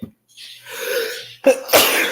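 A close, loud human sneeze preceded by a sharp intake of breath, ending in a forceful burst and a second shorter expulsion, heard alone with no talk.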